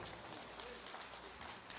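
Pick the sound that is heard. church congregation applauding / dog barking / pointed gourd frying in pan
church congregation applauding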